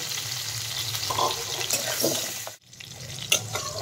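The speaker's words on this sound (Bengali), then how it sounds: "এবার আমি গাজর আর বিনসগুলো সরু করে টুকরো করে কেটে রেখেছিলাম সেইগুলো দিয়ে দিলাম। এইগুলো এর সাথে আর একটু ভেজে নেব।" Potato, cauliflower, carrot and bean pieces fry in oil in a pan for khichuri, giving a steady close sizzle with scraping stirs and a brief pause near the end.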